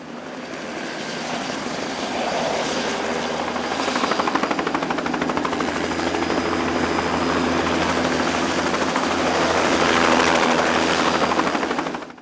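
A helicopter flies a hunting and fishing party into the southern Urewera backcountry, its loud, steady rotor thud and engine roar filling the cabin continuously from start to finish.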